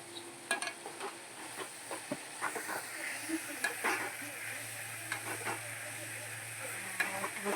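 Soaked mung beans are tempered in a hot pan, sizzling and crackling steadily up close while a utensil stirs and taps against the pan, with faint voices in the background.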